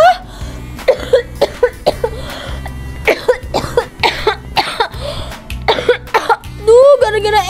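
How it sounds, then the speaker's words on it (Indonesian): A person coughs repeatedly after eating ice cream, with loud, close, rapid hacking bursts in quick succession, mixed with speech throughout. "Aduh, kenapa batuk terus ya?"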